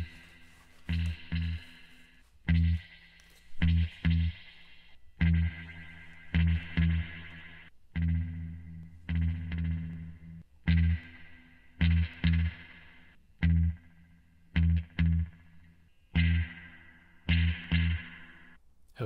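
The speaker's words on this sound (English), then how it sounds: "you can hear what he describes as drip, where it almost sounds kind of springy" Rhythmic bursts of processed sound drenched in springy, dripping spring reverb, repeating in short chopped phrases with splashy tails, no voices.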